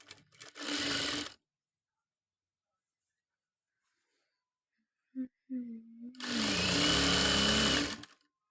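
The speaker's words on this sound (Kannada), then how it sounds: "ಇದನ್ನು ಈ ಥರ ಇಟ್ಕೊಂಡು ಇದ್ರ ಮೇಲೆ ಸ್ಟಿಚ್ ಹಾಕೋಬೇಕು" A sewing machine stitches a school uniform placket in two loud, steady runs, one short and one longer, with a quiet pause between them. A brief hum or vocal sound comes just before the second run.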